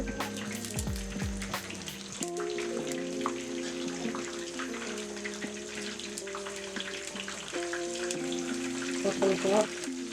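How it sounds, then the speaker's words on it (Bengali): Pointed gourds stuffed with minced meat fry in hot oil, making a continuous close hiss and crackle; a voice speaks briefly over the sizzle. "পটলটা ভালো করে একটু ভেজে নিবে।"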